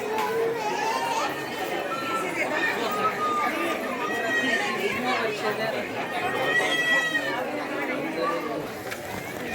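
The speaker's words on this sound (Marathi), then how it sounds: "गर्दी बघू शकता" A busy crowd chatters at an ISKCON temple during Krishna Janmashtami preparations, a dense, continuous hubbub of many voices and children nearby with someone speaking close over it.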